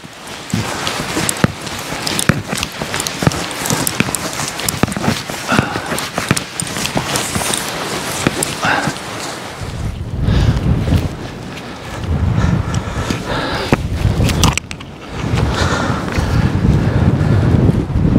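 Strong wind sweeps across an open paragliding training hill, buffeting the microphone with loud, continuous rumbling gusts that rise and fall throughout.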